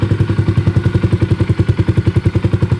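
A 2025 Honda Grom motorcycle fitted with a cheap aftermarket exhaust fires up for the first time and settles into a loud, steady, rapid idle, its low exhaust pulses thumping evenly up close.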